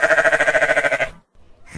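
Sheep on a farm giving one close, loud, wavering bleat lasting about a second, followed by a brief silence and the start of another call.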